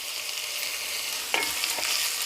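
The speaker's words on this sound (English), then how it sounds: "And just saute with the onion." Chopped bell peppers, jalapeno and tomato sauté with onion in a pot under a steady close sizzle, broken by a couple of scraping stirs near the end.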